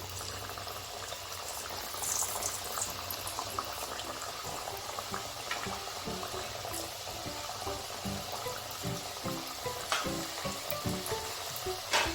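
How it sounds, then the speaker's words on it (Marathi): Pea-stuffed khasta kachoris deep-frying in oil over a low flame, a steady close bubbling hiss with soft crackles running throughout, no voices. "आता आपण कचोऱ्या तळायला घेऊ मंद गॅसवरच तळून घ्यायचे आहेत"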